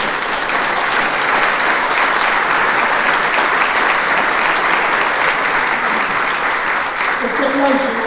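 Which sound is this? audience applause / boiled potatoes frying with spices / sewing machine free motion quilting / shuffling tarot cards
audience applause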